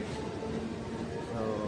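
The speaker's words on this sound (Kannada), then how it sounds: "ನೋಡಿ ಆ ಕಡೆ ಒಂದು ಟ್ರೈನ್ ಹೋಗ್ತಿದೆ, ಲೋಕಲ್ ಟ್ರೈನ್." Mumbai local train rumbling past on the line toward Chhatrapati Shivaji Maharaj Terminus, a steady low rolling drone heard at moderate distance without distinct clacks.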